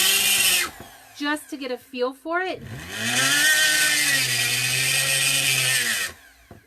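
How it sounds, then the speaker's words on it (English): A small rotary power tool carving a clay extruder die whines loudly for a moment, stops while someone talks, then runs again in a long, steady high-pitched drone before cutting off. "if you have never used any power tools like this before, I would definitely experiment first"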